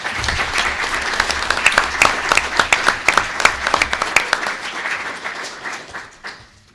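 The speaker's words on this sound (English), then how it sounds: "Let's give everybody a round of applause." An audience at a village board meeting awards presentation breaks into steady applause, dense clapping from a roomful of people that carries on for several seconds before tapering off near the end.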